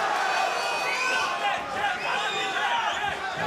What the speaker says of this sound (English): a little jab from Chikh Mousa, the crowd goes nuts